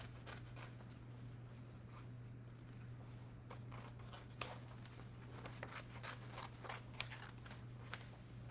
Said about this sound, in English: I'm going to cut a big a superhero emblem out of here.